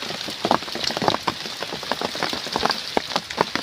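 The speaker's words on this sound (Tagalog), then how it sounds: "lakas ng ulan" Heavy rain pours steadily onto a hard surface, a dense hiss with scattered louder drops, close and continuous.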